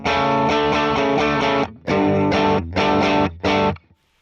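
A dry electric guitar with no effects strums a few chords, with a long held strum followed by three shorter chopped hits and a quick fade, played alone.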